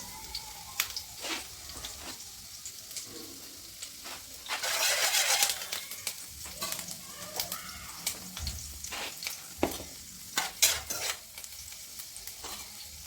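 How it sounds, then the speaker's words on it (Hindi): Green chillies roasting in desi ghee in a pan for a radish paratha filling, with a steady sizzle broken by scraping stirs and a louder burst of frying near the middle. "हरी मिर्च को भी हमने थोड़ा सा रोस्ट करना है"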